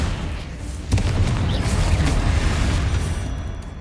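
A Confringo fire spell bursts in a Hogwarts Legacy tomb fight, a sudden boom followed by a sustained rumbling roar of fire and debris lasting several seconds, loud and close with no talk.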